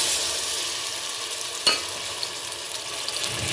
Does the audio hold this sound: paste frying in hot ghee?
yes